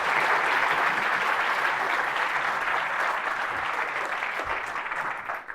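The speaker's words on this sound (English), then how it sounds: "perhaps we can give a big round of applause to Kobe" A big round of audience applause for a pianist about to perform at a lecture, a steady, full roar of clapping that thins and fades in the last second.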